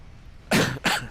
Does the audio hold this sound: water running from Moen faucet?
no